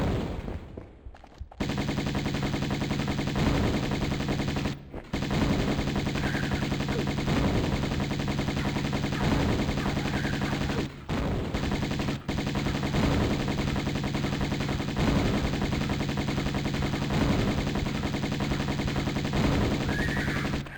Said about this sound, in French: c'est quand même bien agréable de se battre au Uzi